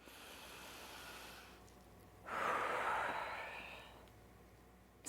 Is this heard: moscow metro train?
no